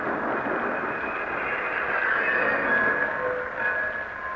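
A train pulls into an old depot station, a steady broad rumbling roar with faint high whines and squeals drifting over it, close and continuous with no voices.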